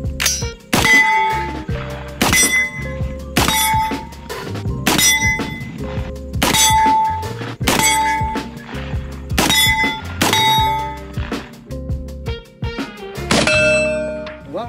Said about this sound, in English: Just go ahead and go to town on that steel out there. Shoot a couple rounds to get the feel for it